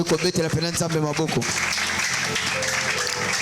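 A church congregation applauding and cheering the Lord, a dense burst of clapping and acclaim that swells after a preacher's voice and continues steadily.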